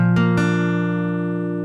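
A guitar chord strummed on only the middle four strings rings out loud and close, with a couple of quick strums at the start, then a sustained, slowly decaying tone with no talk.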